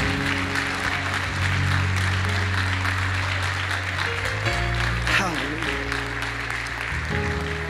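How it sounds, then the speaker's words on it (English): A church congregation applauds a man at a service, the clapping sustained and dense throughout, with music or organ tones droning underneath. "just could you give him a hand clap?"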